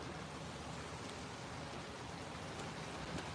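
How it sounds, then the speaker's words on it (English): Rain pours steadily in Ohio, a dense, even hiss of drops striking surfaces, fairly loud and continuous with no talk. "All I see is rain, rain, rain, and more rain."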